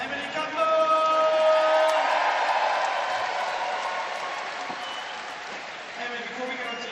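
Crowd at the Birmingham 2022 Commonwealth Games applauding at the men's 109kg weightlifting final, sustained clapping and cheering that swells early and then slowly fades, with a voice speaking over it.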